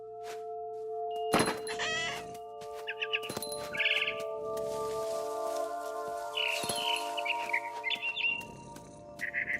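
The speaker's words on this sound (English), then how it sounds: "Then I heard chirping outside my window. It was a barn swallow going back to her nest." Barn swallow chirping in the video game What Remains of Edith Finch: bright, rapid bird chirps and twittering bursts over a sustained tonal hum, with a few dull thunks scattered throughout.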